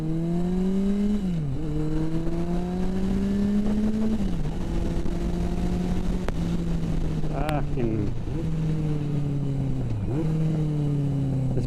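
A 40-year-old Yamaha XS1100 motorcycle roars loudly close by, its engine note climbing through repeated rev rises and dips as it shifts and accelerates along a road, steady and dominant throughout.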